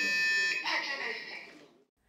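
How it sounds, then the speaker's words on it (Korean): A harsh electronic fire alarm in a six-storey nursing hospital in Daejeon buzzes loudly for about a second and a half, then fades out into silence. "금요일 오후 갑작스레 화재 경보기가 울리기 시작합니다."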